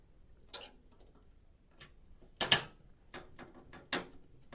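A screw is driven into a computer case, quiet scattered metallic clicks and short scraping bursts with a few sharper ticks against a near-silent background.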